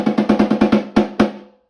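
A snare drum with its strainer off, giving a loose, hollow tone, struck about nine times in a quick, fairly even rhythm, each hit ringing briefly before the last fades out.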